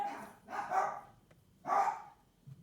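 Dogs indoors bark in a few separated bursts, two stronger barks about a second apart with a softer yip trailing off, moderately close and without talk.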